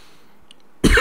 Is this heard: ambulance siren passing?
no